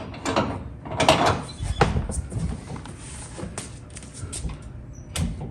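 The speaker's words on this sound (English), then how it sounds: "Just loosen the nuts by hand here." Metal clanks and ratcheting clicks from the nuts of a weight distribution hitch on an Andersen setup being worked loose by hand, in irregular close bursts with quieter gaps between.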